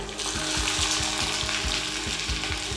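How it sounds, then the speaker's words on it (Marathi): Cumin and finely chopped onion sizzle steadily in hot oil, a dense continuous frying hiss close by with a faint rhythmic knocking underneath, no voices. "कांदा छान सोनेरी रंगावर परतून घेऊया"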